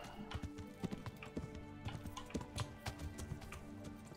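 Horse hooves clip-clopping on the ground in the medieval game Kingdom Come: Deliverance, a steady, moderately loud trotting rhythm of close, crisp hoofbeats with no talking.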